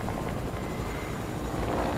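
A helicopter in the Fortnite video game gives a steady, continuous rotor-and-engine drone with a windy, broadband rush. It stays loud and even throughout, with no talking.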